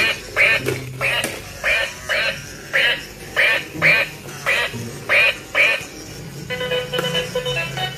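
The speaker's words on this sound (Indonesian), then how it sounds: "Wadidaw, ada bebek." A duck quacks in a steady run of about a dozen loud, evenly spaced squawking calls close by, ending in a rougher drawn-out call.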